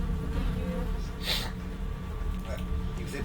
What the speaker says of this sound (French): Avec les mouches là autour de lui.